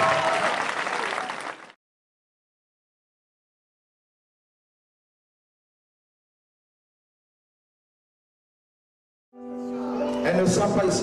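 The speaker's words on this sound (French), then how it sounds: "Et je veux qu'on l'acclame encore, nous Yeshua" A church congregation applauds at a healing and miracles testimony gathering, with loud, dense clapping that cuts off into silence and then returns after several seconds.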